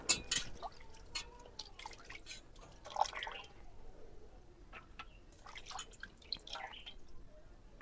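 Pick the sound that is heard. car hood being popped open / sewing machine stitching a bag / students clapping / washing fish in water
washing fish in water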